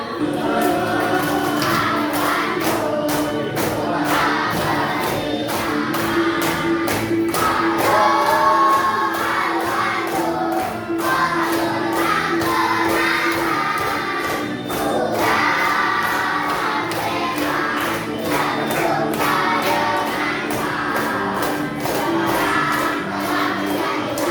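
A classroom group claps hands in a steady rhythm for over twenty seconds, the sharp regular beats mixed with a crowd of voices singing or chanting along.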